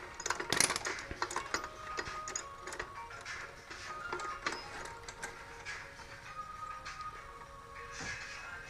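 Small metallic clicks and ratcheting as a wrench undoes the nut on the rear brake lever linkage of a 1975 Honda CB550 motorcycle. The taps are irregular and fairly close, with a quiet shop background and no speech.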